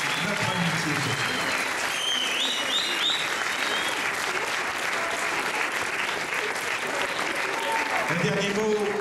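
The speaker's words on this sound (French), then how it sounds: "Je crois qu'on peut applaudir toute la famille pour leur témoigner notre reconnaissance, notre estime, notre amitié." An audience applauds a family at a memorial tribute evening, steady dense clapping filling the room for the full stretch with a murmur of crowd underneath.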